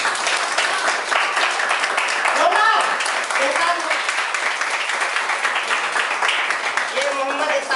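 An audience at a Modicare business meeting applauds steadily to welcome a guest onto the stage, a dense, continuous roar of clapping that lasts throughout, with a voice speaking over it.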